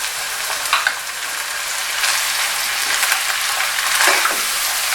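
Chicken and vegetables stir-fried with soy sauce in a pan for chicken fried rice give off a steady, close sizzle, with brief scraping stirs that swell a little louder toward the end, and no voices.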